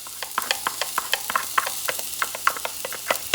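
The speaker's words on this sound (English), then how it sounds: "It's going to saute fast because the heat is a medium high." Onions sauté over medium-high heat in a preheated pan, a steady sizzle broken by frequent sharp stirring scrapes and clicks, close and fairly loud with no talking.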